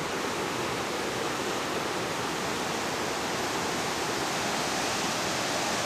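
Waterfall in New Zealand's North Island near Muriwai on a warm afternoon, a steady close roar of falling water that holds level and unbroken throughout with no voices.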